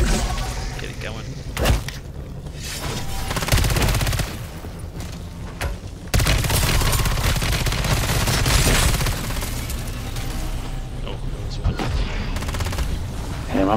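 Rapid bursts of automatic gunfire and heavy booms in MW3 Zombies, a Modern Warfare III zombie mode, come loud and near in dense volleys with brief lulls, and a voice talks over the shooting.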